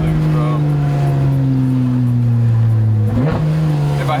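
Porsche GT4S sports car engine droning at a steady, loud, close pitch that sags gradually before a sharp rev blip near the end.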